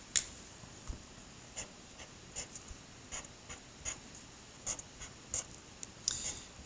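A pen scratches across paper while drawing a chemistry Lewis structure of methane, with short strokes and taps recurring every half second or so, faint and close in a quiet room without speech.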